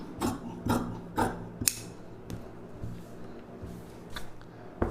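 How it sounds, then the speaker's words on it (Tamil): Scissors snip through blouse fabric in a few separate quiet cuts, each a short rasping crunch, with soft handling rustle between them and no talk. "இதை வந்து நம்ம அப்படி ஸ்ட்ரைட்டாக கட் பண்ணிக்கலாம்."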